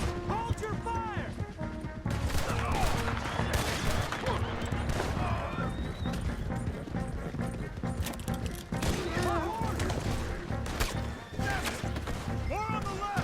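Scattered gunfire in a Red Dead Redemption shootout, with shots cracking irregularly among horses, hooves and shouting voices, fairly loud and busy throughout.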